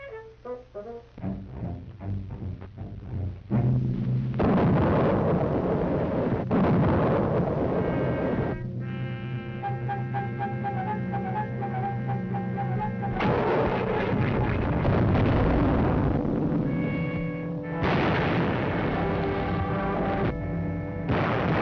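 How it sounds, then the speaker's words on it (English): Light artillery fires in a wartime documentary, sending heavy booming blasts one after another against a rumbling battle backdrop of repeated explosions, with no voices over it. "He ordered emplacements of the light artillery."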